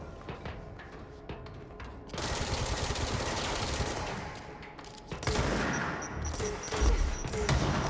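Dense automatic gunfire from the game Control crackles in long sustained bursts with thumps and mechanical clatter mixed in, fairly loud and continuous across the stretch.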